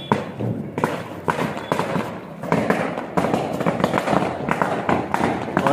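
A Diwali chakri ground spinner burns with a steady, crackling hiss broken by rapid pops and sputters, close by and fairly loud throughout.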